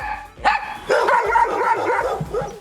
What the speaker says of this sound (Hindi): कुत्ते की वाव वाव